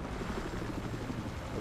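A helicopter in the shooter game Battlefield Hardline makes a steady, loud rotor drone that fills the moment, with no voices over it.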